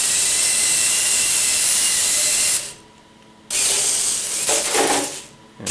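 Electric motors on a VEX robot whining loudly and steadily as it pops a wheelie, cutting out briefly, then resuming with a rising, straining tone.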